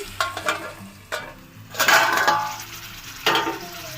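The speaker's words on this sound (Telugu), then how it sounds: "ఇప్పుడు ఈ పీతల్ని కాసేపు ప్లేట్ మూత వేసుకుని మగ్గించుకుంటున్నానండి" Crabs cooking in a pot under a plate used as a lid for a Godavari-style crab curry, with soft sizzling and bubbling, a few clinks of metal on metal and a brief louder burst of frying, close by with no talking.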